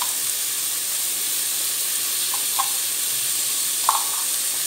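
Vegetables for a white mixed-vegetable kuruma sauté lightly in a pan with a steady, even sizzle, broken by a few faint, brief clicks from the pan.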